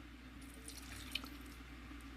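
Fresh water trickles and drips into a salmon bird eater tarantula's tank, faint and close, with one brief splashy drop standing out over a low steady hum.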